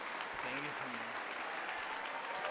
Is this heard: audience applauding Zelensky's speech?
yes